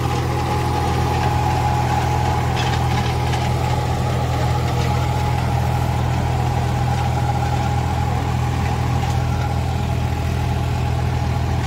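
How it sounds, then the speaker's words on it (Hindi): A three-cylinder 40 HP tractor engine runs freely while driving a seven-foot rotavator, a steady loud low diesel drone with constant mechanical clatter throughout and no talk. "ट्रैक्टर बिल्कुल फ्री चल रहा है इंजन"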